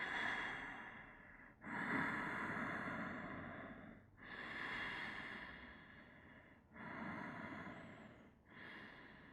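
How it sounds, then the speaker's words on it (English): Deep, slow breaths during a yoga shoulder stand, close and loud, with five long airy inhale-exhale passes separated by brief pauses. "And just breathe. Inhale, create space. Exhale, soften."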